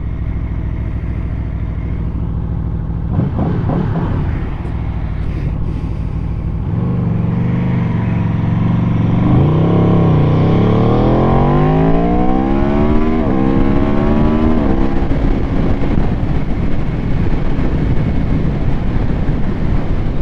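A 2018 Aprilia RSV4RR motorcycle ridden on wet roads, its engine rising in pitch through several accelerations under steady, heavy wind rush at the microphone, loud and close throughout.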